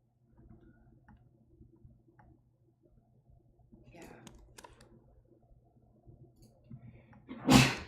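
A single sudden sneeze bursts out loud and close at the end, following quiet keyboard typing and clicking at a desk while someone works in Photoshop.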